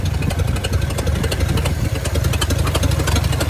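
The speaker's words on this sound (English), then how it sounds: "Look how slow that thing is idling." A 1952 Ford F1 pickup's survivor flathead engine, an old field find, idles very slowly and steadily, a loud, close, low rumble with an uneven lope that carries through the whole stretch with no voices.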